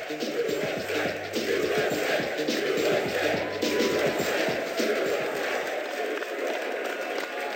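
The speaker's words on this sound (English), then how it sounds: "is getting a standing ovation here in the Prudential Center" A large arena crowd at the Prudential Center gives a standing ovation during the NBA Draft, a sustained roar of cheering and applause with voices mixed in throughout.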